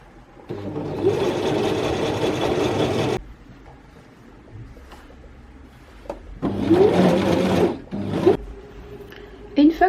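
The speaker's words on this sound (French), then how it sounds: "je vais coudre sur les côtés de mon tote bag ainsi que le fond" A sewing machine stitches the sides and bottom of a lined wax-print tote bag in two bursts, the first about three seconds long and the second shorter, with quiet handling and pauses in between.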